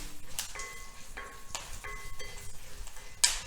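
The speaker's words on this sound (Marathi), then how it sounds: "हिरवी मिरची नुसती वरून टाकायची त्याचबरोबर लाल मिरची टाकायची आहे आणि ही सगळी छान भाजून घ्यायची" Green and red chillies roast in a pan with a soft, steady sizzle, broken by several light scrapes and clinks of a spoon stirring them and one sharper knock near the end.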